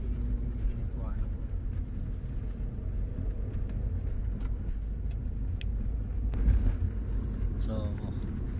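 A 2014 Chery car with an automatic transmission on a road test, heard from inside as a steady, fairly loud rumble of engine and road noise throughout, with faint voices in the cabin.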